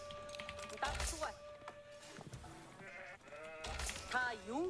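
Sheep bleat a few times in the real-time strategy game Age of Empires IV, short wavering calls mixed with clicking keyboard typing and game sounds while someone talks.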